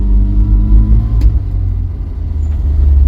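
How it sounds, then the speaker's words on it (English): Vauxhall Viva engine revving in gear, loud and close, the rising pull faltering and backing off about halfway through before a lower rumble carries on. "Starts to back off halfway through the revs."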